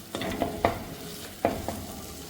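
Tomatoes sautéing in a pan for Kerala-style mackerel fish curry, a soft low sizzle broken by a few distinct scraping stirs of a spoon, quiet and close with no talking.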